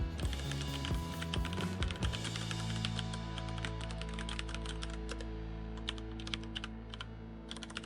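Rapid clicking keystrokes from typing on a computer keyboard come in quick, irregular bursts at close range over a low steady background hum.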